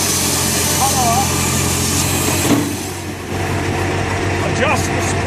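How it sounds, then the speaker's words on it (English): A firewood processor runs steadily while a log is clamped and cut, giving a continuous mechanical engine drone with a brief louder clunk near the middle. "Make the cut with the joystick, the log will be clamped and cut off."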